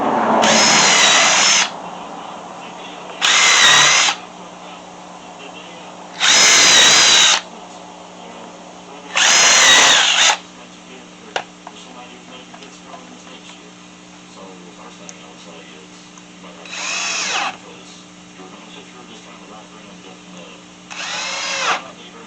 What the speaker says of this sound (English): I'll pre-drill some holes on the ends and then put 1 1/4 inch deck screws to hold these in place.